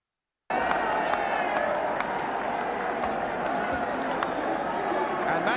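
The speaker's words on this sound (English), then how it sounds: "clapping Liverpool down as a marvellous gesture for what they know to be a tremendous football club" A large stadium crowd at the 1977 FA Cup final at Wembley between Liverpool and Manchester United keeps up a dense, continuous roar of applause and cheering, loud and sustained from start to finish.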